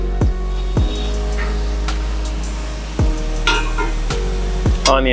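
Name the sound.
chicken being flipped and stir-fried in AMC cookware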